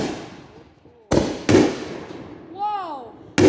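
Fireworks at a firework show bang in sharp, loud blasts, three separate booms, with a person's voice and a bird's chirp in between.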